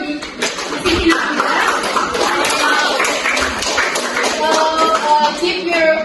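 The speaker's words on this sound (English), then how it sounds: "give applause for the speaking up" Students in a microteaching classroom applaud, with a scattered patter of claps mixed with voices and light shuffling throughout.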